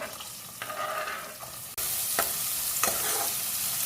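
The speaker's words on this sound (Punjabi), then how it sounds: "ਪਿਆਜ਼ ਨੂੰ ਥੋੜਾ ਜਿਹਾ ਭੁੰਨ ਲਈਏ" Onions sizzle in hot oil with cumin, mustard seeds, a pinch of asafoetida and curry leaves for an aloo baingan curry, a steady close hiss that jumps louder partway through, with a few sharp stirring scrapes.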